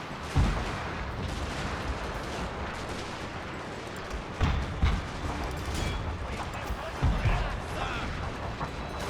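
Gunfire crackles through a video game battle: a bed of distant rattling fire is broken by several heavier booming shots, with a voice talking over the fighting.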